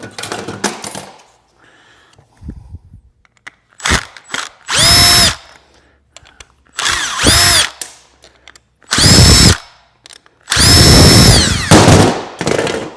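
A power drill unscrews screws from a printer during teardown, with several loud whirring bursts of rising and falling pitch separated by pauses and small clinks of handled parts.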